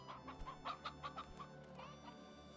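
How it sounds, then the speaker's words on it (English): Chickens in a video game clucking in a rapid, steady run of short, close clucks, one after another for a couple of seconds, then fading into a softer murmur. "That is a lot of chicken."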